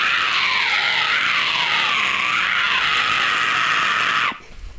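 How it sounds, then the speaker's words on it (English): A high vocal scream in the style of Will Ramos, made with the tongue tunnel technique, held loud and close for about four seconds with a wavering, textured pitch before cutting off abruptly. "and with tunnels, high scream is."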